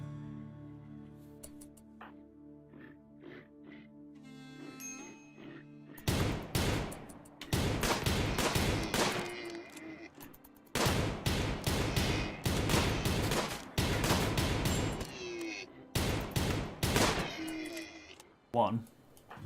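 A hunter fires a gun in RimWorld: sharp, loud shots come in several separate bursts, each a quick cluster of reports, with quiet gaps between them.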